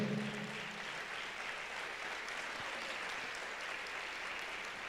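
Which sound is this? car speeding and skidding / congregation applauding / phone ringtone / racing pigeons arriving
congregation applauding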